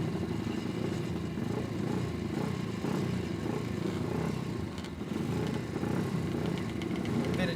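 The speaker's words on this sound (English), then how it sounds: "Vintage Honda XR. Actually a vintage Honda, probably a CB engine in that thing." Vintage Honda XR motorcycle, probably carrying a CB engine, idling at a dirt race start line; a steady, loud, continuous rumble that holds through the whole stretch with a slight dip near the middle.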